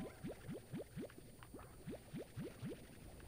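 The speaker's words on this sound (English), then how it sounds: "Let's fill up on water" In the Slime Rancher video game, water fills up as a run of quick rising bubbly boings, about ten in an even rhythm, soft and close.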